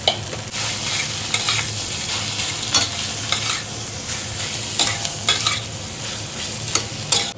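Potatoes with a pinch of salt frying and being stirred in hot oil tempered with ginger and tomato, a steady close sizzle broken by repeated scraping stir strokes, with no voices.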